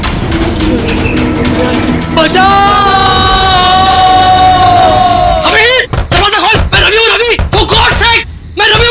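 Heavy thuds of someone banging on a door in a crime drama scene, sounding through loud shouting and screaming.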